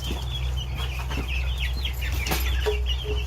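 Hens cluck softly in a steady, overlapping patter, close by, with a low continuous hum underneath and a few brief knocks.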